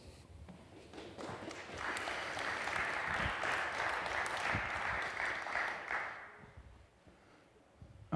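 A blockchain conference audience at DappCon breaks into applause that swells after a quiet start, holds steady for several seconds, then dies away into a quieter room.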